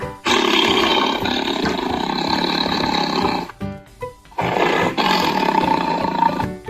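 A tiger roars twice, long, deep and rumbling, up close with a short breathy pause between the two roars.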